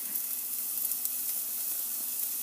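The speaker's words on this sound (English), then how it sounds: "2 tablespoons of olive oil. Gonna saute for a bit." A pan of olive oil sautéing gives a steady, even sizzling hiss that holds at the same level throughout, with no talk.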